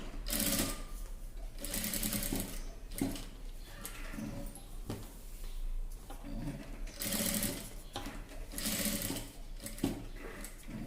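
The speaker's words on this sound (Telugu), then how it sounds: "ఆ తర్వాత ఇలా సూది దింపుకొని ఇలా నెమ్మదిగా వేసేసుకుంటే" An electric sewing machine stitches a neck design on an everyday dress, running in repeated close whirring bursts separated by short pauses as the cloth is turned by hand.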